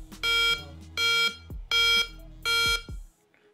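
A Noise ColorFit NAV GPS smartwatch sounds its wake-up alarm as four loud, even electronic beeps, each about a third of a second long, followed by a fainter trailing tone with no talking.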